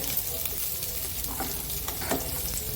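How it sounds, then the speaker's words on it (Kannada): Mustard seeds fry in hot oil for a leafy greens palya, making a continuous close sizzle with light crackles and a few sharper pops, and no talking. "ಎಣ್ಣೆ ಹಾಕಿದ್ದೀನಿ ಇವಾಗ ಸಾಸಿವೆ ಹಾಕೋತೀನಿ"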